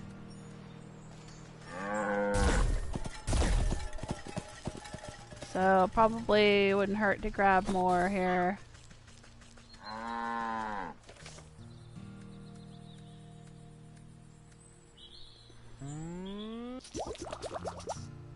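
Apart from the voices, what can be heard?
cow mooing in the video game Wytchwood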